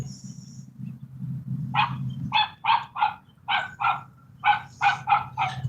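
A dog barks outdoors some distance away, a quick run of about ten loud barks in an irregular rhythm after a low rumble, heard on its own.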